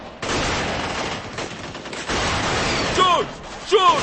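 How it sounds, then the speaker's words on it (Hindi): Sustained movie gunfire from a dubbed Hollywood action film, Flight of Fury, with guns fired continuously as a dense, loud barrage that carries through four seconds, overlaid by shouted voices and a couple of sharp whooshing effects near the end. "गोलियां चलाते रहो, चलाते रहो,"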